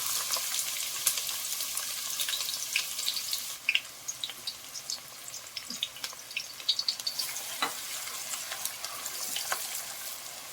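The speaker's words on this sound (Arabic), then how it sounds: "هبدا ان انا احمر البصله" Onion frying in a generous spoonful of ghee for spinach, a steady close sizzle and crackle with scattered sharp pops and occasional stirring clicks throughout.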